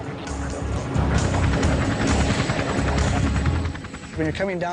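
A helicopter's rotor thumps rapidly and steadily at close range, loud and continuous, easing briefly near the end.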